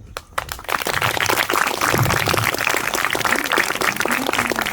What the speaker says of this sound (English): I want everyone to give a round of applause